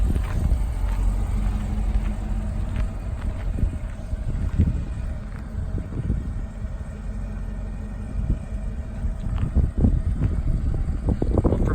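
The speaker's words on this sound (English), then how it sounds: "It's windy as always." Gusty wind outdoors beside a parked 2019 Camaro ZL1, a steady low rumble buffeting the microphone for the whole stretch, with scattered soft knocks and bumps and no talking.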